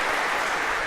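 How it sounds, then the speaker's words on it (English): A lecture hall audience claps together in a dense, steady burst of applause, heard alone for just under a second. "All right, a big round of applause."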